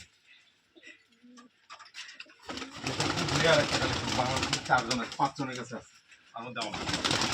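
Over seventy pigeons coo softly while being fed, their low calls blending with busy rustling and flapping. Someone talks over them for much of the time, and a mechanical hum sits underneath.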